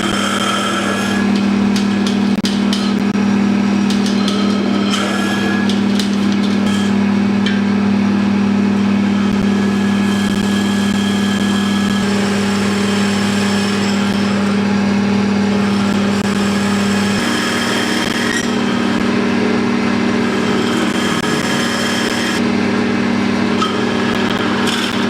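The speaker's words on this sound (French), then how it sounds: "Ensuite, je vais commencer à percer avec cette mèche." A drill bit bores steadily into a block of hardwood such as boxwood or rosewood to make a Provençal galoubet flute, giving a continuous, loud whirring grind that holds for about twenty-five seconds with no pauses.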